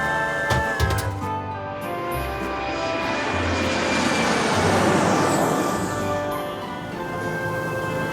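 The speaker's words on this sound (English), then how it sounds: "The plane is high up now." A toy airplane with little toy cars loaded inside takes off, giving a steady propeller-like engine drone that swells toward the middle and eases slightly at the end, with no talking over it.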